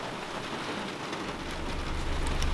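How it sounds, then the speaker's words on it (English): Steady rain falls on a forest campsite, a dense continuous patter with a low rumble building toward the end, no voices. "It's morning now, and it's still raining"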